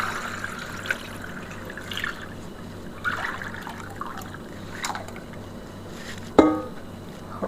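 Homemade sour grape juice trickles through a very fine sieve into a container, a soft continuous dribble with occasional clinks of utensils and one sharper knock near the end.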